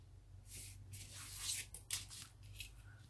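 Scissors snip through diamond painting adhesive wrap, cutting along a groove between bead sections, giving a few close, quiet crisp cuts and rustles with no talking.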